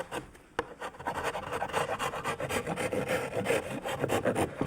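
A rasp files the sharp corners off a wooden board, a run of close, rough scraping strokes in a quick irregular rhythm, with a sharp knock near the start and no talking.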